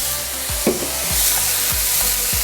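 Hard carrots tumble into a hot pan while stir-frying vegetables for tamie capcay, giving a continuous loud sizzle with a few low scraping stirs and a brief clatter near the start.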